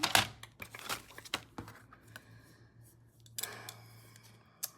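Scissors snip through cardstock in a string of short, crisp cuts with small pauses between them, close by and fairly quiet, while paper rustles faintly as a folio is made.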